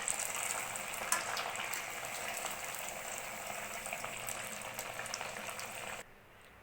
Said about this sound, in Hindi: तो अभी हम बाकी के सारे वड़े को भी इसी तरह से फ्राई कर लेते हैं।